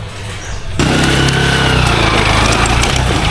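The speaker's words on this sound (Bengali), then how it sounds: "বাইক নিয়ে উঠে যাচ্ছে।" On a steep hill road up Parasnath Hill in Jharkhand, a motorcycle engine suddenly roars in close by after a quiet moment, holding a loud, steady, buzzing drone as it climbs in bad weather.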